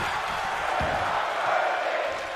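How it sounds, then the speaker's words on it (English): Wrestling crowd at a Linwood Wrestling event chanting together, a dense, sustained roar of many voices filling the hall without a break. "This crowd is chanting, "We're not worthy,""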